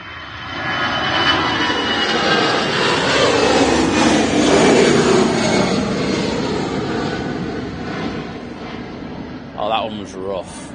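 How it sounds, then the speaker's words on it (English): An EasyJet Airbus A319 jet departs Manchester Airport, its engine roar loud and sustained, swelling and then slowly fading, with people talking over it. "This EasyJet's off to Munich. It's an A319."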